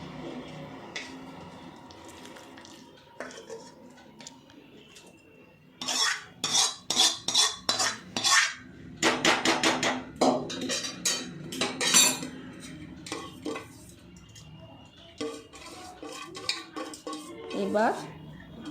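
Meat and potatoes for chicken biryani spooned from a pot over rice, with loud rapid clinks and scrapes of a metal spoon against the pot in bursts, close and without talk.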